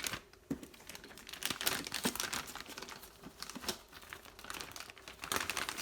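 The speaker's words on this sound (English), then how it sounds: "So go ahead and break this tape right here on the top of it" Very sticky tape being torn and peeled off the top of a paper bag holding an MSI B350 Tomahawk Arctic motherboard, heard as close, quiet, irregular crinkling and ripping bursts with no talk.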